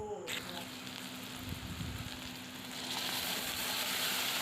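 Taro stolons (kochur loti) sizzle and fry steadily in a pan, a soft continuous crackle that grows slightly louder toward the end, with no voices.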